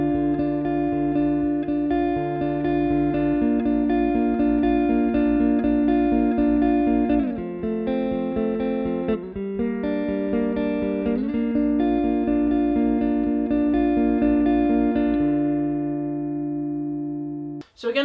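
The picked guitar part of a song plays as a steady sequence of sustained, ringing notes, loud and close, with slight shifts in the chord every few seconds and a brief stop at the end.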